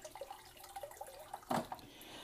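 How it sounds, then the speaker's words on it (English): Water splashes and trickles from a homemade aquarium canister filter outlet, a steady bubbling flow with a louder gush partway through, heard alone. "getting really good water flow"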